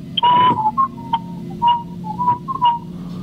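A man whistles to imitate a mysterious whistle heard at night on a remote island, giving a loud, close, wavering tune of several short notes and slides with faint background hum and no talking.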